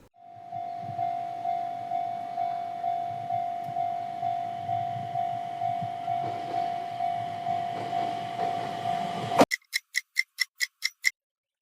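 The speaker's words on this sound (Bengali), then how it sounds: "এখন এই সলিউশনটাকে টিউব সহকারে আমরা সেন্ট্রিফিউজে দিব 5000 আরপিএম এ 15 মিনিটের জন্য।" A laboratory centrifuge spins sample tubes at 5000 rpm with a steady whine and a soft rhythmic pulsing, then stops and gives a quick run of sharp beeps.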